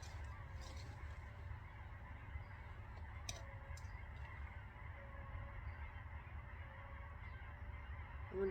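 Geese honk at a distance in an open outdoor setting, their calls faint and intermittent over a steady low rumble of wind or background noise.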